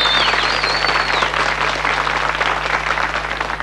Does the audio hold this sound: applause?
yes